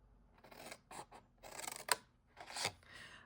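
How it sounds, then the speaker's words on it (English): Scissors snip through paper while a jelly bean treat box is shaped, several close crisp cuts in irregular bursts with short pauses between them, and no talking. "So cut that off, and then I'm going to snip here."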